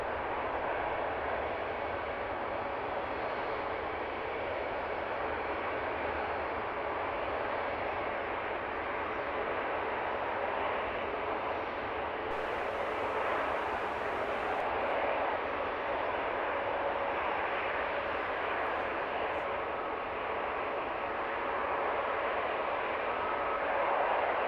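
A plane takes off from the runway at London Luton Airport, a broad steady roar of jet engines heard from a distance that holds level for the whole stretch, with faint wind noise underneath.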